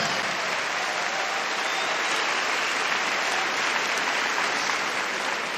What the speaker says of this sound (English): ladies and gentlemen, I think you should give yourselves a round of applause